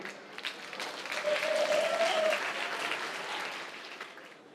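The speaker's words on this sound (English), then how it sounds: "Please, round of applause for Yuri." An audience at a talk on digital product teams applauds to welcome a speaker, a room full of clapping that swells to a peak and then slowly tapers off, with a faint voice briefly audible mid-way.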